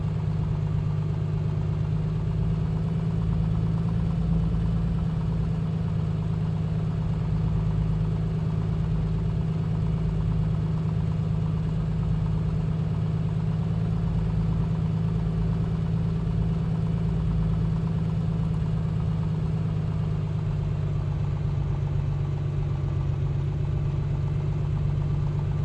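In Microsoft Flight Simulator 2020, a Piper Comanche engine idles at low revs as it warms up, giving an unbroken, even low drone that holds steady throughout with no speech.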